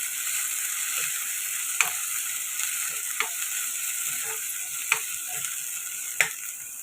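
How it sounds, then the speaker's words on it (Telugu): Ginger garlic paste frying in a pan for a spicy egg curry, a steady close sizzle with a few sharp scrapes of a spoon against the pan, no talking. "అల్లం వెల్లుల్లి పేస్ట్ కూడా పచ్చివాసన పోయేదాకా ఫ్రై చేసుకున్నాం కదండి"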